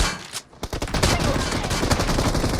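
AKM rifle fire in the PUBG Mobile battle royale game: loud, rapid automatic bursts of sharp cracks run almost continuously after a brief quiet gap near the start.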